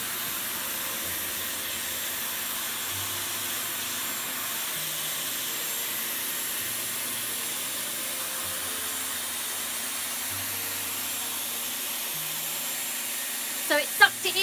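A Dyson Airwrap styler dries long hair with a steady, even whoosh of blowing air that holds for the whole stretch, followed by a few brief clicks at the end.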